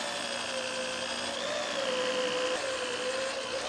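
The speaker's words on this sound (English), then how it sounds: "Now we can start drilling out the frame rail for the inner rocker." A power drill bores out spot welds on the rusty frame rail of a '65 car's inner rocker, cutting 5/16-inch holes. It gives a continuous, steady high whine, close and loud, with no talking.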